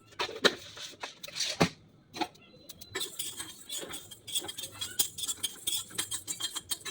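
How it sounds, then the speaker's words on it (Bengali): Light clinks and scraping of a spoon stirring spices being dry-roasted in a pan, irregular taps and rattles close by, with no talking. "এটাকে হালকা করে আমি ভেজে নেবো"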